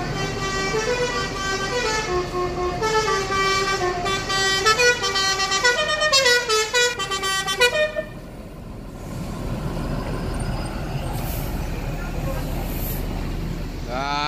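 An intercity Jalapati bus in Indonesia sounds a loud, melodic multi-tone horn in a rising and falling tune for several seconds, then the horn stops and steady engine and road rumble continue as the bus pulls in.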